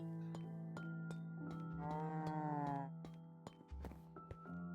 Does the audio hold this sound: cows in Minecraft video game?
yes